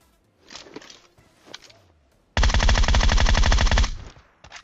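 Sustained automatic burst from a Groza rifle in the PUBG battle royale game, a rapid run of loud, close shots lasting about a second and a half, preceded by faint footsteps and softer movement sounds.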